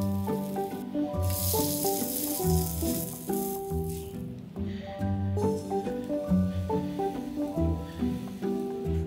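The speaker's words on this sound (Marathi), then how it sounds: "आता त्यांना आपण पलटून दुसऱ्या बाजूनी छान शेकून घेऊया." Mini moong dal rava dosas sizzle on a pan, a soft hissing crackle that rises for a few seconds, mostly beneath prominent background music.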